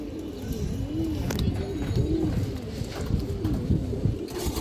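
Pigeons kept at home coo close by in low, rolling repeated calls over a steady murmuring background, with faint rustles mixed in.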